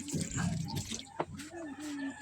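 Water splashes and trickles into a pot nearby, a short burst of pouring over quiet kitchen background noise.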